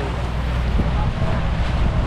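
A boat powered by an Isuzu 6HH1 diesel engine cruises at sea at about seven to eight knots, giving a steady loud low rumble mixed with wind and water noise throughout.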